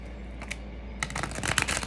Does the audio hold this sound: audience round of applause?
no